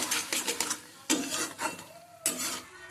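Tomato chutney with chilli powder and chopped coriander is stirred in a pan. Three distinct bursts of spoon scraping and clatter come at intervals over a faint sizzle, with no voices.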